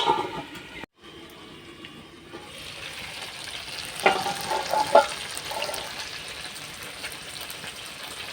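Chicken and nearly softened potatoes cook down in a pan as a spiced chicken kosha, sizzling steadily with occasional louder spatters and stirring scrapes after a brief quiet start.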